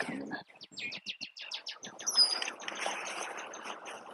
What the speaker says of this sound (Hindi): चिड़िया बहुत मस्त आवाज कर रही है पीछे